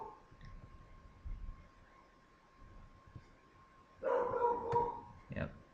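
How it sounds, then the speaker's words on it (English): A pet dog barks in the background, a few sharp loud yaps bunched near the end after a quieter stretch with low rumbling and faint sounds. "that's my dog in the background barking his head off at something"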